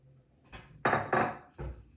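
Flour is mixed into red velvet cookie dough in a bowl, with a few close, brief scraping and clunking strokes of a utensil against the bowl.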